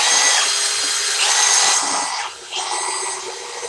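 A Milwaukee M18 Fuel Gen3 hammer drill and a Ryobi 18V One+ drill boring into wood together, a loud, steady, high whine of cordless motors with a brief dip as one bit bites in.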